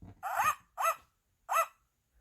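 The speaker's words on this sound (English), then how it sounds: "The puppy wagged his tail and barked" A puppy barks three times, sharp and close, with short silent gaps between the yips and no other sound around them.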